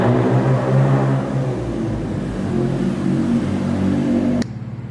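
A BMW M4 Competition's exhaust roars loudly and close, a steady droning engine note that rises and falls slightly before cutting off abruptly near the end, with no talking.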